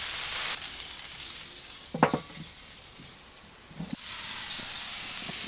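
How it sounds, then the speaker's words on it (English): A soft, steady sizzle of a burger patty frying on a hot Weber Q griddle, with a couple of brief clinks or scrapes in the middle. "And it's on to the griddle. Just listen to that sizzle."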